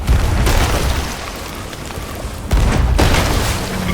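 Loud booming cannon shots with a synthetic game-like quality, two heavy blasts rumbling out over a continuous low roar, from a ship's back cannon in the video game Sea of Thieves.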